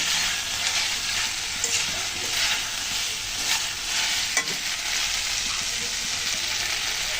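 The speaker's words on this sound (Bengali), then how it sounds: "এখন দিয়ে দিচ্ছি আমি মাছ। মাছ দেখতে হালকা নেড়ে করে কষিয়ে নিই" Fish stirred and fried in spiced oil, heard as a loud, constant sizzle with soft scraping of a spoon through the pan.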